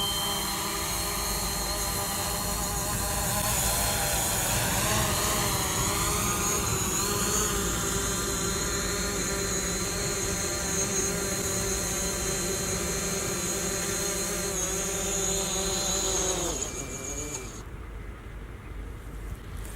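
DJI Mavic drone hovering and then descending to land, a steady close whining buzz of propellers with rising and shifting tones that holds loudly throughout before cutting away sharply near the end, no talking.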